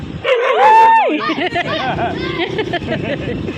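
A dog howls and yips loudly up close, its whining barks rising and falling, with people's voices and commotion mixed in behind.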